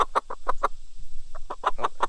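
A rooster gives a rapid run of sharp clucks, a quick even series, then a brief pause and another burst, close and loud with no talk over it.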